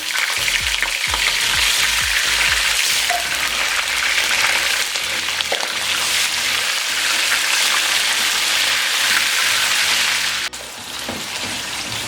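Loud, dense sizzling of chicken frying in hot oil, a continuous crackling hiss with a few clunks of the pan early on.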